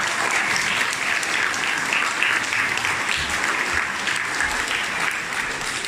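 Audience at a school celebration day applauding, a dense, sustained clapping from a crowd that stays full and steady for several seconds, with faint voices beneath.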